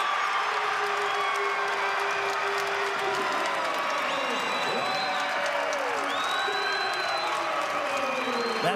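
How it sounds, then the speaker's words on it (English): A college basketball crowd at the Banterra Center cheers loudly and steadily through the whole stretch, with whoops and applause, as a commentator talks over it. "That's the loudest the Banterra Center has been in several games."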